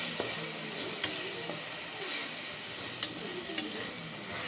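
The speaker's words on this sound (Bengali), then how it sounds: "1 চামচ রসুন বাটা, আদা বাটা। এগুলো আমি ভালো করে ভেজে নেব।" Garlic and ginger paste fries in a pan, a quiet, even sizzle with a few faint pops and ticks.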